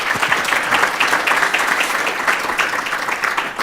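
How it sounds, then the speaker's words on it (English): Dense, loud applause from a conference audience closing a finance panel session, steady clapping filling the whole stretch with no pauses. "People, please, a hand of applause."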